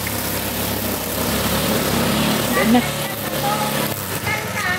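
A grass cutter engine hums continuously nearby in a yard, a steady droning motor under a person speaking throughout.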